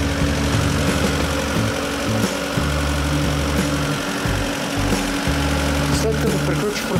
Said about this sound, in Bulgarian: Чувате, оборотите на автомобила са изключително високи.